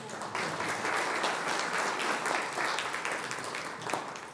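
An audience applauds at a cultural reunion in Onești, Romania, a sustained, even wash of many hands clapping from start to finish, with no one speaking over it.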